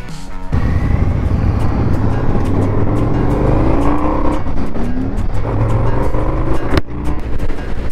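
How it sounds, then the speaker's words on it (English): Indian FTR 1200 motorcycles riding, with a loud, steady engine roar close by that rises and falls with throttle changes for several seconds before a brief break in the sound. "Let's get out there and go and ride these bikes."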